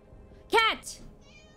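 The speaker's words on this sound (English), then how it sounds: "Cat!" A cat meows once, close and loud, in the horror game Dead by Daylight, a short rising-falling cry followed by a brief higher chirp over quiet game ambience.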